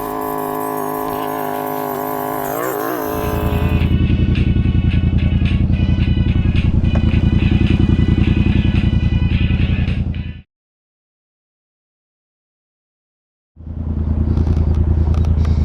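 Motorcycle riding in traffic, loud close engine rumble with a rising rev and steady throttle, cutting out abruptly to silence for a few seconds before the engine noise returns.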